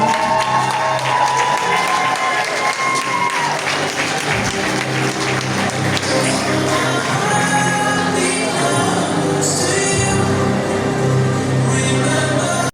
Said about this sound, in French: On applaudit la dernière candidate,